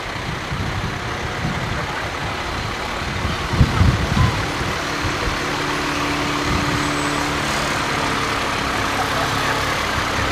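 Heavy truck engines idle in a low steady rumble at a small-town fair parade, a continuous near drone with a brief louder surge of engine noise partway through.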